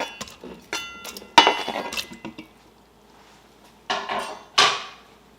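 Garlic and onion pieces are dropped into an Instant Pot of beans, giving a few sharp clinks and clatters against the metal pot with short rattling bursts and quiet gaps, close by, no talking.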